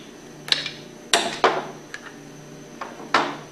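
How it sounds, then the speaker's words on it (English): Two screwdrivers prying a mechanical seal out of a centrifugal pump, heard as a handful of sharp metallic clicks and knocks, about six separate hits spaced irregularly and close by. "Take your 2 screwdrivers and pry out the mechanical seal."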